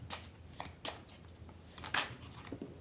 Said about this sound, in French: Je vais juste remélanger.